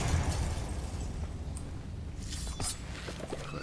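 The Confringo explosion spell goes off in the video game Hogwarts Legacy, a burst of fiery blast noise that rolls into a sustained rumble, with game effects swelling and fading across a few seconds and no talk over it.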